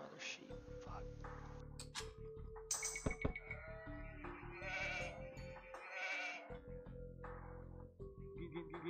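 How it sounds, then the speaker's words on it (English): Sheep bleat in the real-time strategy game Age of Empires on a Black Forest map, several short bleats over a dense bed of game music and effects, with a player talking now and then. "there's my other sheep."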